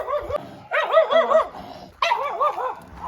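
Small dogs bark near a window in two close, shrill bursts of rapid yappy barks, loud and with no one speaking.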